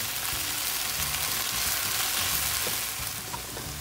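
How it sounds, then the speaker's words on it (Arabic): Molokhia leaves frying in a pan, a steady close sizzle and crackle with faint stirring, continuous and even, no voices. "كل ما عم تقلوها حاولوا تفكوا الوراق عن بعض."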